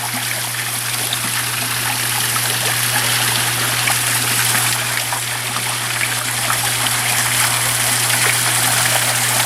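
Steady trickling and splashing water runs continuously into a small pond at close range, with a low constant hum underneath.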